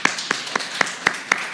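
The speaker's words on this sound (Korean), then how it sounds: "박수를 한 번 더 우리 보냈으면 좋겠습니다." Church congregation applauding during a Sunday service: a short run of evenly spaced, moderately loud claps, about six in under two seconds, close and distinct with no voices.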